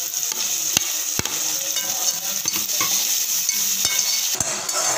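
Tomatoes being stirred into browned onions frying in a pan: steady close sizzle with sharp spoon scrapes and clicks against the pan at irregular intervals, no talking.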